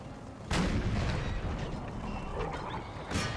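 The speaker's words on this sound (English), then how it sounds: "Hit them with a round shot, just because you might get a multiple." Round shot cannon fire in the Empire Total War video game: two sharp, heavy booms about two and a half seconds apart, with lingering rumble and distant battle noise in between.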